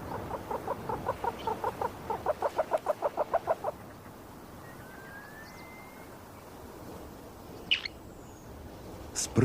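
Himalayan snowcock, or ular, calling in high mountains: a rapid series of about twenty rhythmic, clucking notes, clear and moderately close, followed by quieter background with faint distant chirps.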